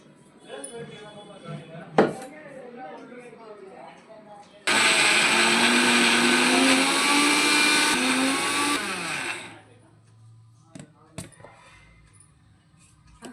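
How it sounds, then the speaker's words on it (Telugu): Coconut being ground in a kitchen mixer grinder, which starts abruptly, runs with a loud, steady whirring roar for about five seconds and then winds down. Clatter and handling noises come before and after it. "కొబ్బరి మిక్సీకి ఎత్తుంది"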